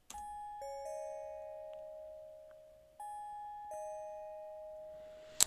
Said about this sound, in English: I also layered it up with the wavetable bell from Expand, and it sounds like this.